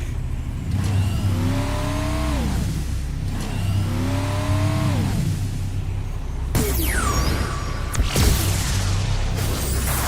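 A car engine from the Skylanders SuperChargers video game, the Hot Streak vehicle, revs loudly in repeated rising-and-falling surges, with a sharper higher whine and a few clanks toward the end, all without talk.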